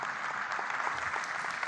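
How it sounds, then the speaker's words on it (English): Audience members clap after a hotel presentation on a live business television broadcast, a brief, even patter of many hands at moderate distance, with no voices over it. "A continuous round of applause for that awesome presentation by Echo Hotels and Suites"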